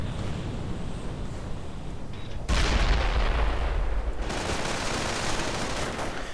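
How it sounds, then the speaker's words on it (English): A demolition charge blows up a bunker in a World War II strategy game, a sudden loud blast with a sustained roaring rumble after a stretch of distant battle noise. "Demo charge up. And goodbye bunker."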